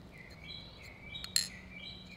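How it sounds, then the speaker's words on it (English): A small bird chirps excitedly at a distance near a car, giving a few thin, high tweets over a steady low rumble, with one sharper, louder call standing out. "That bird's super excited."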